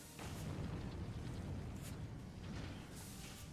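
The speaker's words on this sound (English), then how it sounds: "Sounds like someone fired a damn cannon or something." A cannon firing in a Final Fantasy XIV cutscene: a heavy, sustained low rumbling boom lasting several seconds, loud and steady with no talk over it.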